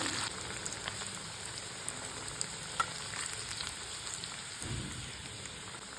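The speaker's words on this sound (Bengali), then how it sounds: "আলুগুলোকে আমি হালকা করে ভেজে নেব বেশি আমি লাল করে ভাজবো না" Potatoes frying lightly in oil with salt and turmeric, a steady soft sizzle and crackle running throughout with occasional brief clatters of stirring, no one talking.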